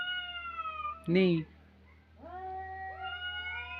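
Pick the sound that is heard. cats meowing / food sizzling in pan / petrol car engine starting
cats meowing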